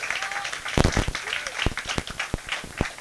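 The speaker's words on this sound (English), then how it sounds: "I would like you to give Mr. Peter Jenkins a round of applause" Scattered claps ring out from an audience at a Belle Vue bus stop opening, honouring Peter Jenkins: a sparse round of sharp, separate hand claps over a low murmur, with a voice faintly present.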